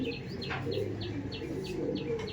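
Andhra pigeons in a loft give a steady run of short chirping calls and low coos at a regular pace. The calls sit over a constant low background murmur, and no voices are heard.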